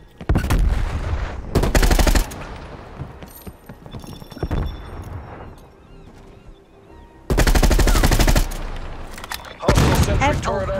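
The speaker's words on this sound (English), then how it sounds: "Hostile sentry turret active." Video game sentry turret gunfire comes in several loud, sustained bursts separated by short pauses, with quieter clatter and game sounds between them.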